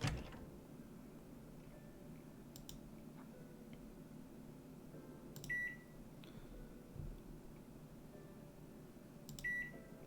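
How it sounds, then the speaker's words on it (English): A microwave oven in the video game Carol Reed Mysteries beeps in short high tones, three separate beeps spaced a few seconds apart over a low steady hum. "That is so a microwave oven sound."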